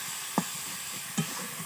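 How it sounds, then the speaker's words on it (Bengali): Chicken with turmeric and cumin powder sizzles softly in a pan, a quiet steady hiss broken by two short scraping stirs about a second apart. "দেওয়া হয়ে গেলে ঠিক আবার একটু নাড়াচাড়া দিয়ে নেবেন"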